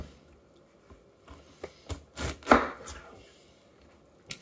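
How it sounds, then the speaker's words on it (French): A knife chops through fruit to cut around and remove the pit, giving a handful of soft, close, irregular cutting strikes with one louder crunchy cut in the middle. "il faut que je coupe et que j'enlève le noyau"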